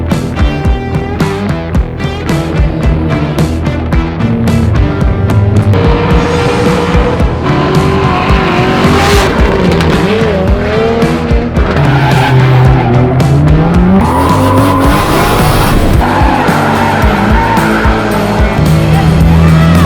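A drift car slides through loud, sustained tire squeal with a roaring race engine at a Gymkhana GRiD 2019 event in Poland, the screech rising and falling continuously across the run.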